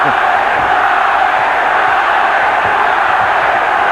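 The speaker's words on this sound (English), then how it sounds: "Pro Chavez crowd chanting already." Boxing crowd backing Jesus Chavez against Floyd Mayweather Jr., a dense, steady roar of voices chanting and shouting throughout, loud and continuous with no single voice standing out.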